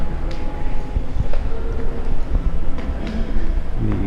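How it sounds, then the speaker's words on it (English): A train rumbles at the old Lima railway station that once served the line to Huancayo, a continuous loud low rolling of wagons with faint rhythmic clicks and no voices. "The train still runs"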